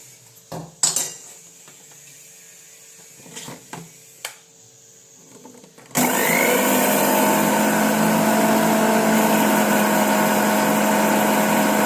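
A mixer grinder pulverises roasted black cumin and spices. A few soft clinks of the jar and lid come first, then the motor bursts into a loud, steady whirring roar that runs without a break to the end.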